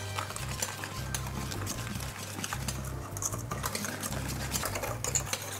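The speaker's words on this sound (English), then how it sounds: "And we mix." Boiled milk being stirred into an apple mixture in a cooking pot for an apple crumble tart, giving a steady soft scraping and sloshing with a low hum running underneath throughout.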